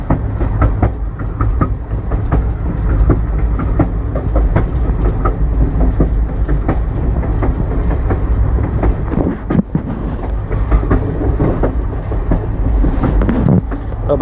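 Standing on the back platform of the railroad car Northland while riding, the rumble of the rolling train is loud and steady, with wheels clicking rhythmically over rail joints.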